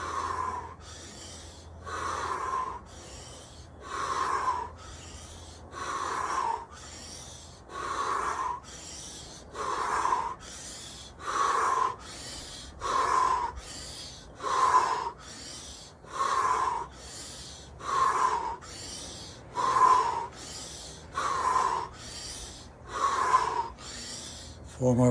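Rapid rhythmic breathing exercise with a squeeze on each inhale: about fourteen quick, even breath cycles, each a breathy rush of air, repeating steadily at close range with no talking.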